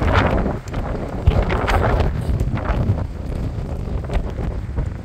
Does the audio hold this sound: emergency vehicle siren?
no